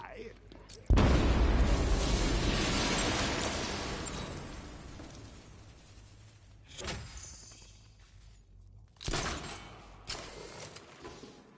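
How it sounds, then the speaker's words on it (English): An explosion erupts in the video game Batman Arkham Knight as a sudden loud boom with a long rumbling decay, followed by two shorter, weaker blasts later on. "I need to be at a safe distance before I detonate."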